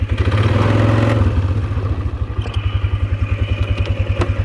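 A 1999 Polaris Sportsman 500 4x4 ATV engine idles up close with a loud, steady, rapid thumping chug, shifting in tone as it settles into a lower, even putter.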